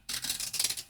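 Scissors snip through paper scripture labels in a single short, close cut with a crisp, brisk rasp.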